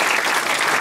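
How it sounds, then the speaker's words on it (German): A crowd at the Schöne Münchnerin 2014 pageant claps in a brief, dense, even burst, close and loud, for under a second. "Applaus."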